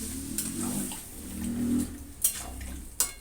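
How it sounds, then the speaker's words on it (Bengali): Vegetarian curry in a pot, with water just poured in and stirred around, gives a close bubbling sizzle and swishing under the spoon, and two sharp clinks of utensil on pot near the end; no talking. "জল দিয়ে সুন্দর করে নাড়িয়ে চাড়িয়ে"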